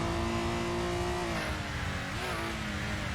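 Race car engine in the Assetto Corsa game, a touring car at Barbagallo, holds a steady high-revving drone near 7,000 RPM, loud and continuous with slight pitch wavering and no talk.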